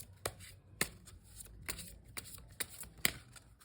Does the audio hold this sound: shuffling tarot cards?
yes